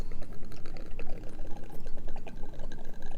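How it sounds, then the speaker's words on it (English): Tequila glugs and splashes as it is poured for shark attack shots, a close, continuous liquid pour with quick bubbling pulses and no talking. "So let's go with some tequila first."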